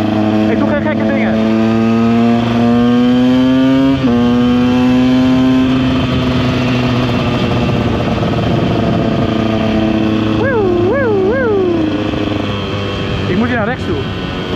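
A KTM EXC 125 two-stroke dirt bike ridden out on a trail, its engine droning loud and steady close by and rising and falling through revs, with sharp throttle blips near the end.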